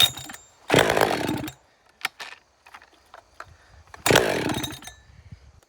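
A STIHL chainsaw that has trouble starting on fast idle gives two short, loud, close bursts of engine noise, separated by quiet clicks and small rattles.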